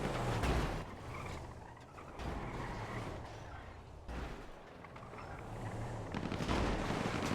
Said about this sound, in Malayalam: ഇത് എല്ലായിടത്തും വെടി വരുന്നുണ്ടല്ലോ.